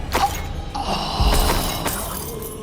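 A Confringo spell blast in the video game Hogwarts Legacy, a sharp shattering burst followed by thuds and crackling debris amid other spell effects, with no talking.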